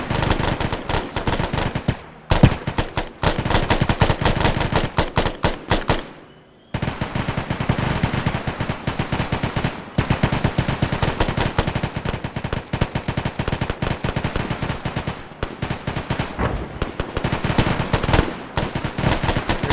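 Sustained machine gun fire in ArmA 3, a Vietnam-era military operation: long rapid bursts of loud automatic shots with a short pause near the start and another break around six seconds, then continuous firing to the end.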